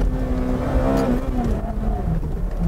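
A Ferrari with its Manettino in sports mode, engine revving under throttle with traction control cutting in, a loud continuous close engine drone that rises and then eases.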